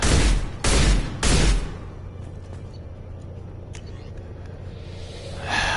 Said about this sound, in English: Scimitar assault shotgun